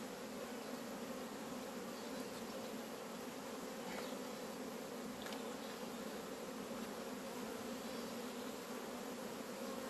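Honeybees in a well-populated hive, a steady, dense buzzing hum that holds at an even level throughout, heard close and with no voices.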